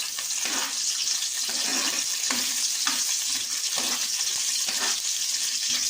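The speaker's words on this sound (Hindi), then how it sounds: "साथ के जो हमने काली मिर्ची और एक लौंग दालचीनी रखी थी वो ऐड कर लेते हैं" Black pepper, clove and cinnamon dropped into hot oil give a continuous bright sizzle and crackle, close and fairly loud, with faint stirring knocks underneath and no voices.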